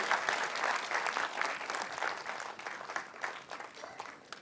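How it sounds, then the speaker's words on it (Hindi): Loud, sustained applause from an audience at an Atomy India felicitation gathering, with dense clapping that holds steady and tapers slightly toward the end, with no talk over it. "जोरदार तालियां"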